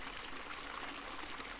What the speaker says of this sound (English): This huge water wheel was built to pump out water to reduce the risk of flooding.